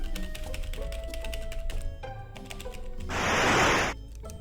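Rapid clicking of keys typed on a keyboard in the video game Eveline, a quick irregular patter close up, ending in a short burst of brighter noise.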